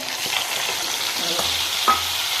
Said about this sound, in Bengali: এই পেস্টটা দিয়ে আমি মাছের আলুটাকে ভালো করে কষিয়ে নেব